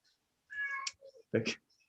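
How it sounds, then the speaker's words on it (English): A cat meows nearby during an online webinar, one drawn-out rising meow followed by a shorter, sharper cry, each separated by quiet, fairly close and clear. "cat is desperate."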